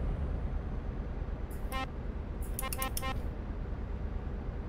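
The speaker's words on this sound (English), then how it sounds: "I did press my horn, but his horn was way louder than mine." Two honks of a truck horn in Euro Truck Simulator 2, one short then a longer stuttering blast, over a steady loud engine and road rumble.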